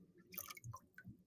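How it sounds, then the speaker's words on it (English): Water drips from the spout of an overfilled measuring cup, a few faint, quick drops landing one after another close by in a quiet room. "See how it's like dripping out of the spout?"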